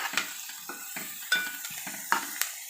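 Tomato and onion frying for a fish curry, with a spatula scraping and stirring through the pan in several distinct strokes over a steady, soft sizzle.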